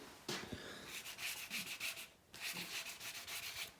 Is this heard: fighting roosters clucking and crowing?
no